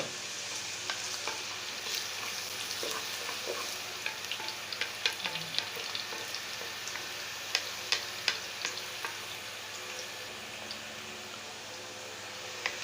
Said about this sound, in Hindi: तो अब इसमें डालेंगे अदरक के टुकड़े जो हमने काट लिया था, और इसको 2 मिनट तक फ्राई करेंगे।